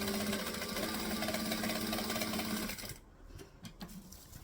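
A sewing machine stitches steadily along the edge of a fabric oven mitt, its fast buzzing hum running continuously for several seconds before stopping, followed by faint handling clicks.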